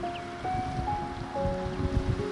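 Steady roar of Skogafoss waterfall in Iceland, a broad continuous rush of falling water with low rumble, close and constant, with a few faint tonal streaks over it.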